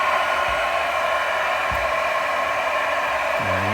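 An electromagnetic induction heater coil wrapped around a Loctite-locked bolt on a bracket gives off a steady, even hum with a broadband hiss, running without a break from start to finish.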